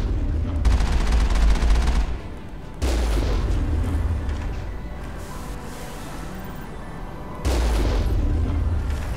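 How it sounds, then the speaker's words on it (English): Rocket launcher fire during a firefight in the video game Mass Effect: loud booming blasts and heavy explosive bursts crash in abruptly, with a rumbling low-end roar between volleys and a faint voice underneath. "Oh crap! They're rocket launchers."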